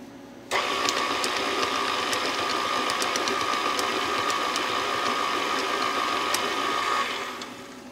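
A stand mixer's motor kicks on abruptly and whirs at a steady, strained pitch while beating butter and powdered sugar into thick frosting, running loud and close for several seconds before winding down.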